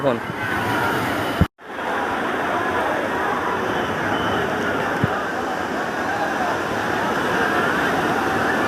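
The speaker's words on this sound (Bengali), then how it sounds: "আর ঢেউ দেখো কি প্রচণ্ড পরিমাণে ঢেউ হচ্ছে" Strong sea waves at Digha beach make a loud, continuous broadband roar that cuts out for a split second before surging back and holding steady.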